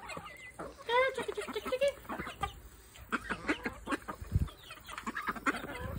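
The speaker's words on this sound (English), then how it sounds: "Dang, these chicks are getting big." Chickens cluck and peep near the microphone while pecking at watermelon, with short, irregular calls and a duck among the flock, and someone talks softly over them.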